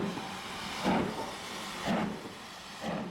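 Steam hissing from a 1920s Maunsell Southern steam locomotive, a steady hiss swelling in three evenly spaced bursts of chuffing exhaust, close and alone with no voices.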